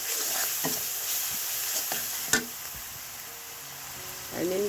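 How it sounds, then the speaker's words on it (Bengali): Chili and turmeric powder stirred and sautéed in hot oil for a Bengali pabda fish curry, giving a steady close sizzle with scraping spatula strokes and one sharp clank partway through. "এখন হচ্ছে ভালো করে নেড়ে চেড়ে কষিয়ে নিচ্ছি"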